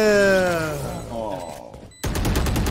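Gunshots in a competitive shooter match on the Fracture map: a voice and tonal game sounds fade out, then a dense rapid burst of automatic fire starts abruptly and keeps going.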